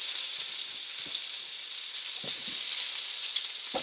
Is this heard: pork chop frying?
yes